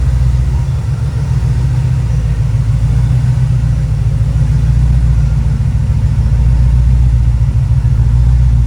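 A 1984 Chevrolet Monte Carlo SS V8 engine idles steadily with a deep, loping low rumble, close and loud, with no other sounds.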